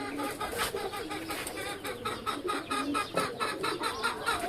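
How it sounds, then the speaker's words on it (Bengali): A hen clucks repeatedly in a steady, close series of short calls, with no speech over it. "মুরগি ডাকতেছে"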